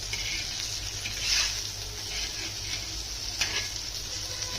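Raja Rani fish frying in oil in a pan, giving a steady close sizzle with soft crackle and a few brief louder pops, no voices.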